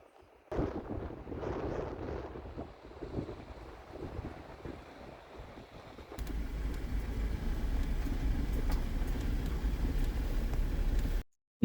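An overlanding vehicle drives a gravel road in Montana, heard as a steady, loud, wind-buffeted rumble of tyres on loose stones that settles in after a few seconds of rougher knocks.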